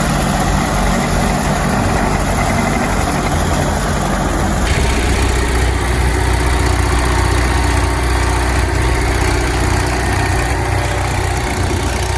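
A loud heavy tractor engine idles continuously nearby at a tractor pull, a steady low rumble with a slight shift in tone partway through.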